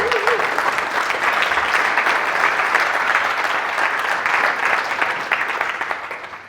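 Sustained, loud applause from a large conference audience during a keynote talk, a dense even wash of clapping that holds steady before easing off slightly at the end.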